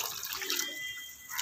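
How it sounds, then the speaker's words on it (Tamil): Tap water running steadily into a container for rice, a continuous close hiss and splash with no talk over it. "எதுக்கு தண்ணி ஊத்திட்டு இருக்க சொல்லு."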